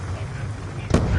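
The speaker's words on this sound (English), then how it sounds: "Throwing grenade." A grenade detonating in Call of Duty: Black Ops 2 multiplayer: one short, loud explosive burst near the end, set against ongoing game noise and a player's voice.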